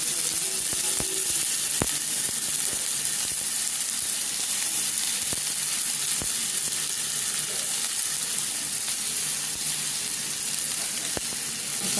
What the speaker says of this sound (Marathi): थोडा गुलाबी होईपर्यंत कांदा परतून घ्यायचा